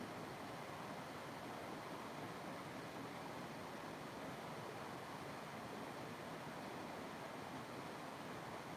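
Steady, dense rush of a waterfall, loud and unbroken throughout with no voices, like continuous white water pouring close by.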